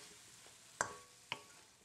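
Shirataki noodles stir-fried with soy sauce and sesame oil in a pan, a faint steady sizzle broken by two sharp scraping clinks of the spatula.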